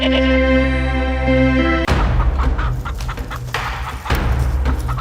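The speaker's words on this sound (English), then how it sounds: "The humble chicken." A loud, busy chicken soundscape: a sustained tonal note gives way to scattered clucks and squawks, with thumps and rustling throughout.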